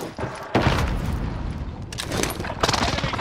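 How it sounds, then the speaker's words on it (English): Rumbling blasts and crackling explosions from a precision airstrike in Call of Duty: Modern Warfare, a loud dense barrage with heavy booms landing close together over about three seconds. "Enemy precision airstrike."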